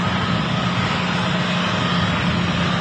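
Singapore Airlines A350 airliner taxiing out at Manchester Airport, a steady, loud engine roar and whine with no break.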